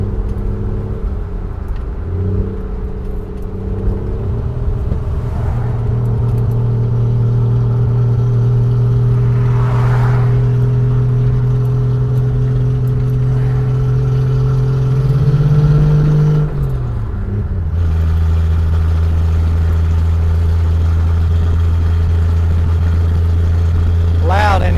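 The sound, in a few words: 1968 Plymouth Valiant engine with loud cut-off exhaust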